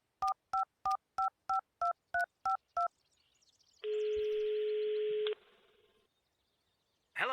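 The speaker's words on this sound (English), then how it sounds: "Yeah, I'll call him on his cell phone." Cell phone keypad beeps in the video game Runaway: a quick run of about nine evenly spaced dialing tones, then a long steady tone lasting over a second, fairly loud and clean with no talking.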